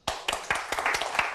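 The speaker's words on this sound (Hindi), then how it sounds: "सभी लोग तालियां बजाकर हमारे नए टीचर्स का वेलकम करें।" A group of people in a school claps to welcome new teachers, producing a dense, steady patter of overlapping hand claps for over a second at moderate, slightly distant volume.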